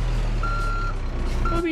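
A truck reversing in the BeamNG driving game gives two steady electronic reversing beeps over a loud, low engine rumble, close and continuous.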